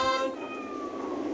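A cat gives a single short, high meow in a Japanese television advert, close and clear, followed by quieter background sound.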